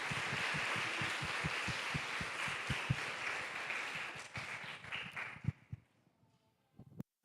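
A church congregation at a Korean Sunday service in Dortmund claps to welcome newcomers: a full burst with strong, rhythmic in-time claps that thins out after about five seconds, leaving a few scattered claps and near silence.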